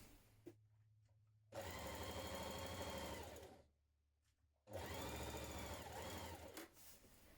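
Sewing machine stitching a seam on a spring/summer dress, two sustained bursts of rapid mechanical whirring of about two to three seconds each, separated by a short quiet pause, close and without speech.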